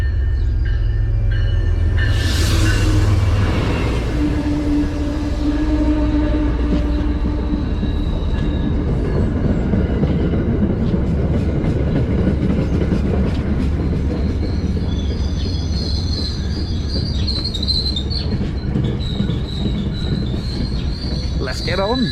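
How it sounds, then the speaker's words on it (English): An MBTA commuter rail train pulls into South Weymouth station with loud, sustained wheel squeal and rumbling railcars, a sharp screech rising early and the clatter continuing steadily, close by throughout. "We got ourselves a train coming."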